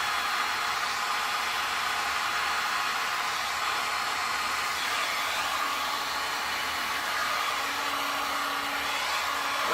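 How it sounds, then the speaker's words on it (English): A small fan on its low setting blows air across poured resin, a steady soft rushing hiss with no breaks, close and fairly quiet, and no one speaking. "I'm just going in there with the low setting on the fan. I will blow it over the yellow just a little bit."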